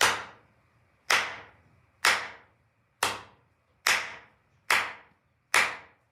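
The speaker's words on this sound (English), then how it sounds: "So basically you clap and it changes the color of it." Seven sharp single hand claps ring out at roughly one-second intervals, each crisp and close with a short decay, used to trigger a microphone clap switch that changes an RGB LED's color on a Raspberry Pi Pico.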